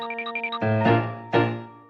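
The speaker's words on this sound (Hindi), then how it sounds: "घंटी बजाओ।" A hand bell is rung: a few quick bright chiming notes give way to two louder, ringing bell strikes that decay slowly, close and clear with no talking.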